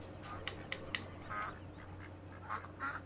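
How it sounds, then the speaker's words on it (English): Ducks quack repeatedly in Farming Simulator 2017, a few short nasal calls spread across the clip at moderate distance over a steady low in-game hum, with no talk. "I love the sound of all the ducks."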